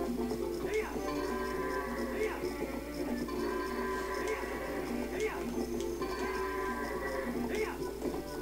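Goats in The Legend of Zelda: Twilight Princess bleat in repeated bursts over continuous game music, with a person talking throughout.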